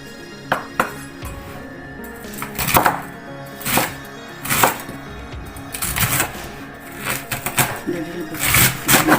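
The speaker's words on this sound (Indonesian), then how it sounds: "Nah, ini seldernya aku potong-potong dulu ya." A knife chops Belgian celery on a cutting board in a quick, irregular series of sharp knocks, close and clear, with small clinks of kitchenware between strikes.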